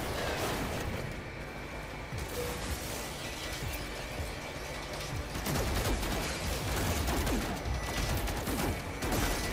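Weapon fire in No Man's Sky VR on PSVR2, with dense, rapid blasts and crackling bursts packed over a loud, constant roar of game noise, continuing without a break.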